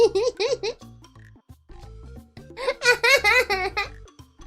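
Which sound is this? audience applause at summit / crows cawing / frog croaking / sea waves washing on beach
frog croaking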